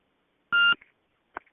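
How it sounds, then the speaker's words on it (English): A telephone number dialed on a handset: one clear dial tone beep followed by a shorter faint tone, with silence around them. "Call the number, the phone number."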